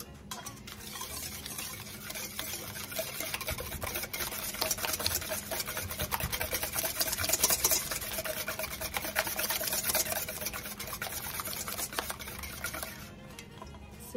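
Eggs and sugar being stirred together in a bowl for a pecan pie, a steady scraping, clattering mix that runs continuously and fairly close, with no voices over it.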